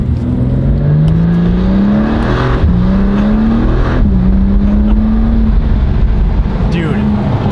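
A sports car engine revs loudly in sport mode from inside the cabin, pitch climbing through gear changes with brief dips between, a constant close roar.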